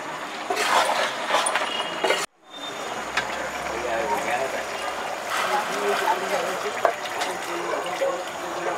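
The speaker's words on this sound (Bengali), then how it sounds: "গরম জলই ঘুগনি দিয়ে দিলাম" Hot water pours into ghugni in a pan, making a splashing, rushing flow that cuts off sharply, then resumes as a steady watery hiss, with a voice speaking over it.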